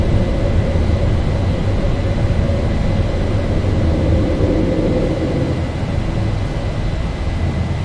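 Boeing 737-800 jet (Zibo mod) climbing out after takeoff from Dublin, a loud, steady engine roar holding constant throughout with no talk.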